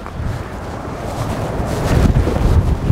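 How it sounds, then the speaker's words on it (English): Strong wind buffeting a microphone outdoors beside a used Fiat 500 on a dealer's lot, a loud continuous low rumble and roar that swells toward the end, with no talk. "Sorry, it's quite windy"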